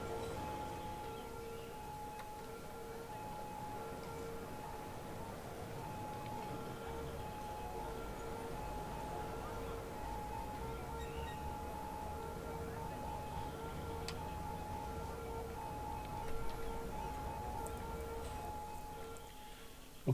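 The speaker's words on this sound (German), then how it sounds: "Okay, das sind schon amerikanische Polizeiautos, die hier rumfahren" Wailing American police car sirens in the city-building game Cities: Skylines, a steady sustained siren tone running throughout under ambient city noise and music.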